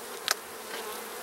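Honey bees in an opened hive, a soft, continuous buzzing close by, with a quick sharp knock or scrape near the start.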